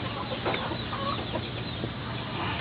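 Breeder chickens on a poultry farm cluck and chatter, with several birds making short, irregular calls over a steady barnyard background.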